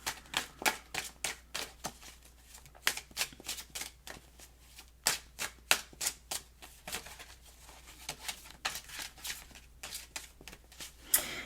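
Tarot cards are shuffled and drawn by hand, producing quick, crisp riffling bursts and flicks in irregular clusters, close and fairly quiet against a faint background hum.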